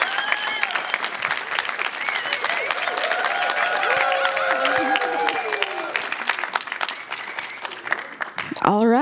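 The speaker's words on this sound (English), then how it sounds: "So let's give Jerome Nicolai a giant round of applause." Audience applause for Jerome Nicolai at a Techstars Founder Catalyst startup program event, sustained and dense clapping from a large crowd, loud and steady for about nine seconds with some cheering mixed in.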